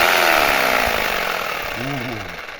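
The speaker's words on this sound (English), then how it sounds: "It's a jigsaw." A jigsaw runs with a loud, buzzing, high-pitched whine that fades slightly, and a voice speaks briefly over it near the end.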